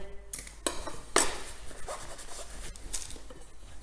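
A kitchen knife trims the ends off an aubergine on a chopping board, making a few distinct knocks and thuds against the board with quiet clatter in a kitchen between them.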